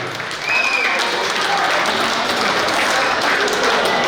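An audience breaks into applause that starts abruptly and continues as a dense, loud clatter of many hands, with faint voices mixed underneath.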